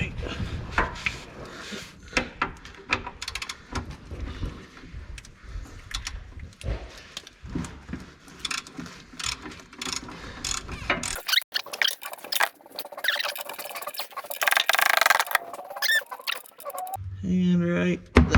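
Wrench loosening the 15 mm oil pan drain bolt on a Ford F150 truck, with close mechanical clicks and scrapes followed by a steadier rushing of oil draining into a container, while a person talks over much of it.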